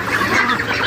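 Ducks on a Peking duck farm in Barisal give brief, close, honking quacks that overlap one another in a short burst. No one speaks.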